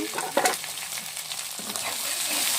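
Chopped chilli, tomato and capsicum stirred in a hot pan for a sandwich filling, with a steady close sizzle and a few brief scraping stir sounds near the start, no voices.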